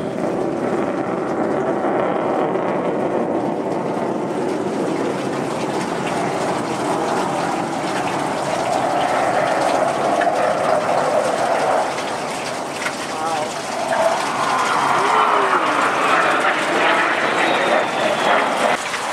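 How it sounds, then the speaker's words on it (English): A CF-18 Hornet fighter jet at an airshow in Toronto makes a sustained, loud roar that stays steady and swells toward the end as the jet comes around, heard from a high-rise vantage point with a faint voice now and then. "CF-18 Hornet doing its thing."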